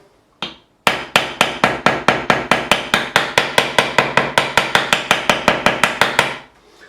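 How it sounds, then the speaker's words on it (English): A hammer taps frets into the neck of a 1976 CBS-era Fender Stratocaster during a refret: after one lone knock, a rapid, even run of about two dozen sharp, close, bright metallic strikes. "If we get one sticking up, we'll take the hammer."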